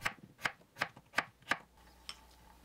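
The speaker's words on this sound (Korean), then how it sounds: "감자는 큰 거 1개, 중간 사이즈면 2개를 썰어 주세요" A knife chops potatoes on a cutting board for spinach-potato doenjang soup, five sharp, evenly spaced thuds close up, then one lighter tap after a pause.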